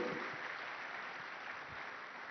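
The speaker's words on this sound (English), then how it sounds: "Give yourselves a round of applause." Audience applause fills a summit hall, a steady wash of many hands clapping at moderate distance that continues evenly throughout, with no speech over it.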